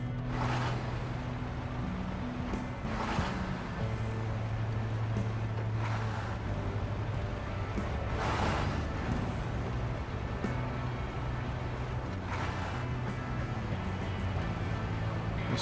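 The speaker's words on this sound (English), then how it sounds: "It's quite a throaty engine, isn't it?" A throaty truck engine in the SnowRunner video game, played on hard mode in the Taymyr region of the Russian Federation, runs with a steady low drone and layered humming tones. Periodic brief bursts of louder noise rise over it.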